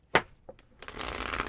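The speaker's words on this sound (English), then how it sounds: "Like I've done 80 shuffles today." A tarot deck is handled up close, with a crisp snap and a few light taps before a steady riffling shuffle of the cards takes over.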